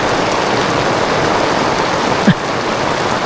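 Steady rain pours down throughout, a dense even hiss of falling water, with a brief soft thump near the end.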